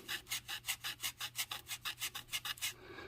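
Hand sanding the body of a 1969 Dodge Charger R/T with 400-grit sandpaper, a close, quiet rasping scrub repeated in quick, even back-and-forth strokes, about a dozen in three seconds.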